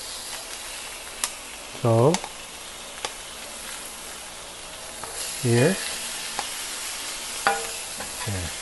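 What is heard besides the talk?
food sizzling in a pan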